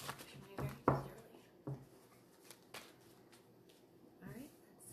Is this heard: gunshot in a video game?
no